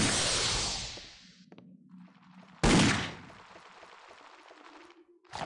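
Gunfire crackles in Indiana Jones and the Tower of Babel, two loud bursts of rapid shots separated by quieter gaps with a faint low hum between, close and sharp.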